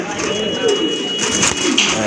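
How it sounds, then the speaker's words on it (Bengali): Fancy pigeons coo softly in a loft, their low murmuring running under close conversation throughout. "আর ওই যে এইটা কিন্তু আপনার মাদি কবুতর"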